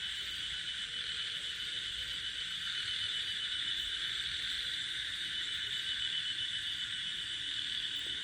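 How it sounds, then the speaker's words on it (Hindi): A steady, dense chorus of crickets and frogs at night near Mussoorie, India, hums continuously, loud and unbroken, with no voices. "आपको ये जो झिंगुर होते हैं, मेंढक होते हैं, इनकी आवाज़ आ रही होगी।"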